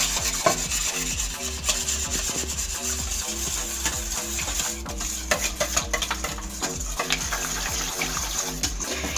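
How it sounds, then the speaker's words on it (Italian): Flour is slowly stirred into crepe batter, a steady close rubbing and scraping of a whisk or spoon in a bowl, with soft repeated strokes and small clicks over several seconds. "E piano piano uniamo 150 g di farina"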